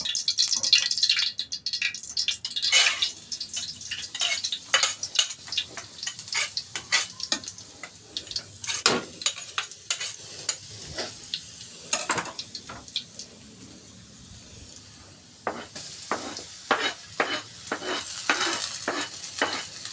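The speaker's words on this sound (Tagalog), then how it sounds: "Puputok sa atin yung mantika." Garlic frying in spattering cooking oil, with a steady sizzle, frequent sharp pops and metallic scrapes of a utensil against the pan, close and fairly loud with no talk.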